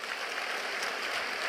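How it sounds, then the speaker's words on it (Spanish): Congregation applauding in church during a Spanish-language sermon, a dense, even wash of many hands clapping at once, continuous and fairly loud for the whole moment with no voices on top. "Un aplauso al Señor."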